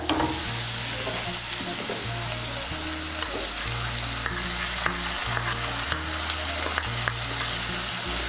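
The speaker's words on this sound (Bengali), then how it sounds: "এখন এর মধ্যে দিয়ে দেব সর্ষে পোস্ত আর কাঁচা লঙ্কা বাটা।" Mustard, poppy seed and green chili paste fries in a pan for a Bengali potato and eggplant curry, a steady loud sizzle with scraping stirs and a low hum running throughout.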